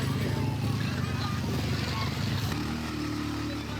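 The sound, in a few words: motorbike engine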